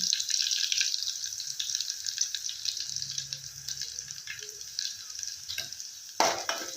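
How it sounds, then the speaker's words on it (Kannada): Garlic, curry leaves and spices for a North Karnataka peanut sambar fry with a quiet steady sizzle as they are stirred, with a few soft scrapes and a brief clatter near the end. "ಬೆಳ್ಳುಳ್ಳಿ ಹಾಕೋಣ ಚೆನ್ನಾಗಿ ಮಿಕ್ಸ್ ಮಾಡ್ಕೊಳ್ಳಿ"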